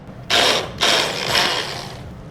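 A Braun hand blender on its gentle low setting chops mushrooms in two short close bursts of whirring motor buzz, followed by a longer, slightly fading run; no one speaks.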